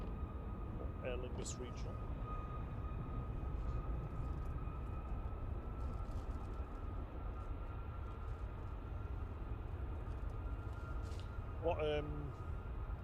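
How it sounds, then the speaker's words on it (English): A Jet2 aircraft engine run-up test at Manchester Airport gives a steady, fairly distant broadband roar with a sustained whine, continuing throughout while people talk over it. "Yeah, engine run going on over there."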